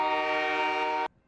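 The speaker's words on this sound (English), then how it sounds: "if a train rolls through the city, it lets a whistle blast" A train whistle blares as the train rolls through Lloydminster, one long, loud, steady blast for about a second before it cuts off abruptly.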